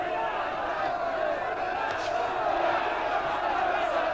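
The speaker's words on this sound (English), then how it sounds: "And the crowd really on their feet." A boxing arena crowd keeps up a steady, dense roar of cheering after the Hector Camacho Sr versus Ray Mancini fight, continuous and loud throughout, with an announcer talking over it.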